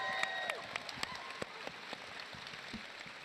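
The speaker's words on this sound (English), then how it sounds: "Give them all a big round of applause, everyone." An audience claps at a Star Wars Celebration convention panel in Japan, a brief patter of scattered applause that fades to a few isolated claps.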